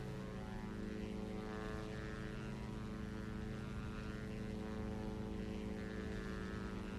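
Twin engines of a Diamond DA62 in the X-Plane 11 flight simulator, throttled up for takeoff, make a loud, steady propeller drone with a tonal hum that stays constant throughout, with no talking over it.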